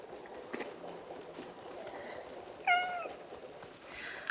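A cat gives a short, faint meow over quiet room noise, with soft scattered background sounds before and after it.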